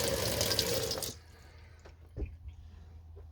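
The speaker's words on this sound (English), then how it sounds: "sink, tap," Cold tap water gushes loudly from a camper van sink for about a second, then cuts off, leaving a quiet space with a faint drip or two.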